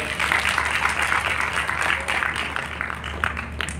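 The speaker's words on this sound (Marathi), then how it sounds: "पुन्हा एकदा जोरदार टाळ्या आपण त्यांचं" An audience at a religious discourse applauds, a dense steady patter of many hands clapping at moderate volume, continuing evenly throughout with no voices on top.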